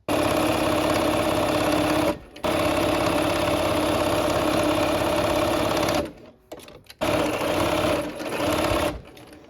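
A sewing machine stitches quilt seams on a Christmas quilt in long, loud, steady whirring runs close up, broken by brief pauses and a stuttering stop-start stretch before the motor picks back up.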